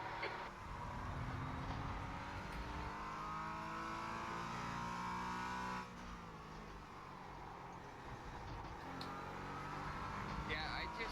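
A race car engine in a racing video game drones steadily at high revs through a hot lap, shifting pitch around the midpoint, while a voice talks over it throughout.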